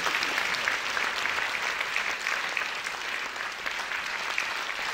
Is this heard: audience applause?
yes